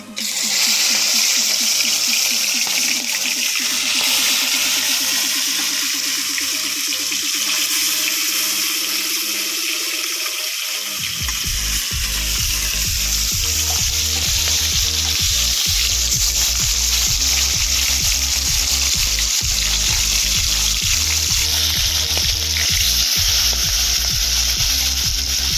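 Rohu fish hits hot oil in a wok over a village clay stove and fries with a loud, dense sizzle that continues steadily, with occasional scraping clicks underneath.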